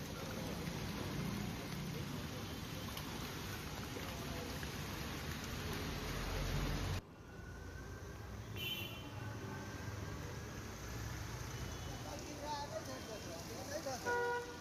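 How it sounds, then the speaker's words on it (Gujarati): Heavy monsoon rain pours steadily on flooded Delhi streets, a continuous broadband hiss that drops to a softer wash halfway through, with faint traffic and a distant horn. "તો દિલ્હીમાં આ વરસાદ પડ્યો છે।"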